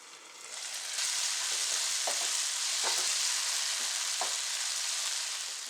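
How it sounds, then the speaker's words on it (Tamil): Tomato, onion and green chilli sauté in a pan for a roadside-style spicy mushroom masala, giving a loud, continuous sizzle with occasional stirring clinks and scrapes throughout, with no talking. "கொஞ்ச நேரம் வதக்கிக்கலாம்."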